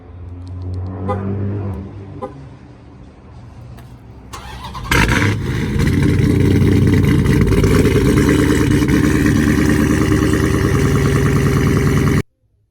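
A Hellcat V8 running on E85 with a near straight-pipe exhaust and small race mufflers cranks briefly, then fires into a loud, raspy roar that holds as a heavy idle before stopping abruptly.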